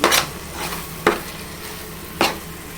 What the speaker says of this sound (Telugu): ఆయిల్ పైకి వచ్చిందండి మసాలా మొత్తము ఇలాగా మంచిగా ఫ్రై చేసుకోవాలి